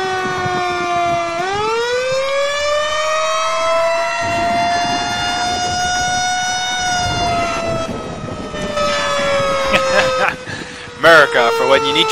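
Fire engine sirens in the video game Emergency 4: a loud wailing siren rises and holds in a long sweeping tone, with several overlapping siren layers and brief electronic bursts near the end.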